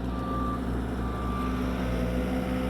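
Two reversing alarms beep steadily and overlap, their tones interleaving over the low rumble of idling heavy work vehicles.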